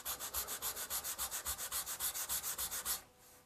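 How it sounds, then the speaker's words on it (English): Wood being hand sanded with 220-grit sandpaper during furniture restoration: about twenty quick, even back-and-forth rubbing strokes in a steady rhythm, close and clear, stopping abruptly near the end. "I'm just sanding with some 220 to level the rest of these areas out here and get that wood smooth."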